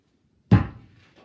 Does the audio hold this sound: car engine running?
no